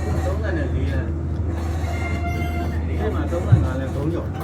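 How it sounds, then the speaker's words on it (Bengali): Myanmar passenger train rolling slowly along the line, a steady low rumble and rattle of the carriage heard from on board, with one brief clank partway through and faint voices in the background. "ট্রেনের গতি এখনো উঠাই নাই।"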